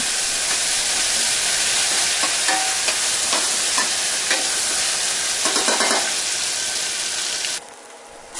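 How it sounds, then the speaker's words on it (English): Wet spice mix fries and sizzles in a pot for Haitian black rice, with a steady bright hiss and repeated scraping stir strokes close by; the sizzle drops sharply near the end. "then you're gonna stir it and you're gonna wait until it again turns brown"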